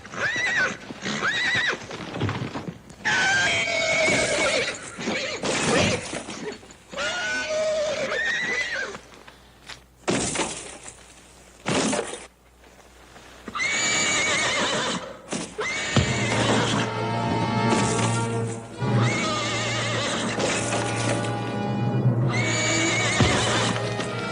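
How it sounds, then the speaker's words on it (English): Horses neigh and whinny loudly several times while hooves clatter and pound, with a few voices shouting in the commotion. "Watch out for that other horse."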